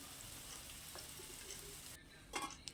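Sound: garlic and tomato being sautéed in a pan

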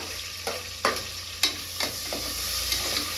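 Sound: green chillies and onions frying in hot oil

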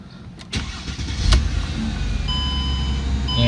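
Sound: car engine cranking and starting

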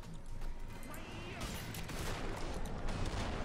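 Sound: gunfire and grenade explosion in video game Killing Floor 2

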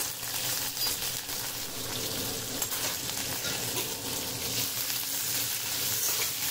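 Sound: raw tomatoes sizzling as they fry in spiced oil tempering

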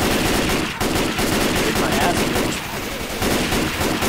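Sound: gunfire shooting a trailer in video game Left 4 Dead 2

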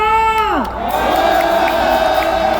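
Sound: crowd of protesters cheering

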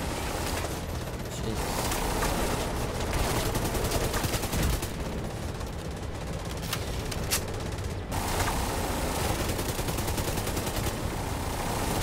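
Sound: minigun firing in The Division 2 video game

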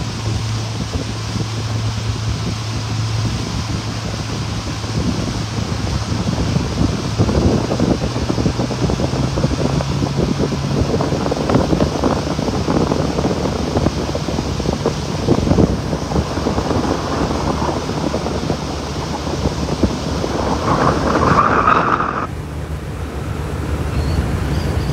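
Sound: wind at a beach

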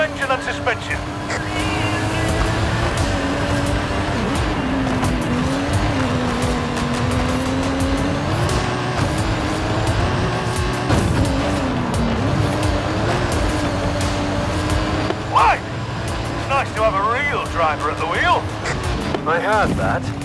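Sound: stunt car driving uphill in Forza Horizon 5 video game

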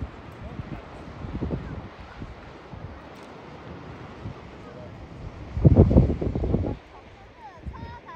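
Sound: sound of the sea

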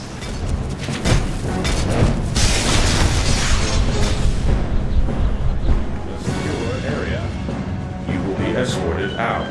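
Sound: explosion of the Batmobile in DC Universe Online video game

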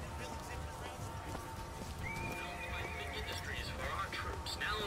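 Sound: horse neighing and galloping, Bucking Bronco vigor ad, BioShock Infinite video game

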